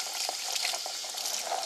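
Water runs and splashes steadily over an etched Damascus steel blade as it is rinsed, a close, continuous wet rushing with small splashy bursts and no voices.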